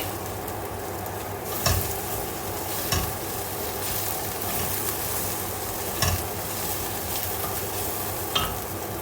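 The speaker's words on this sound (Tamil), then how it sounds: "இதையும் போட்டு வதக்கிட்டு" Tamarind-laced paste is fried and stirred in a pan, giving a steady close sizzle with several sharp scrapes and clinks of a spoon against the pan, no voices.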